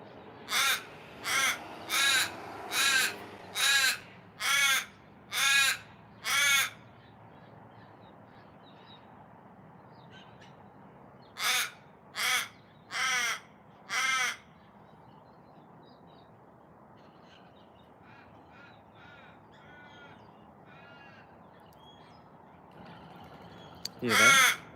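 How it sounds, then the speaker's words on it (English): Ravens calling back and forth in a suburban setting: a run of seven loud, harsh caws in steady rhythm, then a quiet stretch, a second burst of four caws, fainter distant replies, and one more call at the end. "There's another raven about 3 houses down and they're talking to each other."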